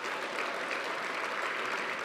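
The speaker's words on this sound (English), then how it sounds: "Let's give a round of applause for Bruce." Audience applause at an annual awards banquet, a continuous, even patter of many hands clapping throughout, moderately loud with no breaks.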